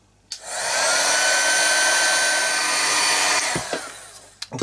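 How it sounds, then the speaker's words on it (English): A heat gun blows hot air over texture paste and watercolour in an art journal, a steady loud whoosh starting abruptly, holding for about three seconds, then tapering off with a few small knocks at the end. "So I'm going to gently just give that a little bit of a blast with a heat gun."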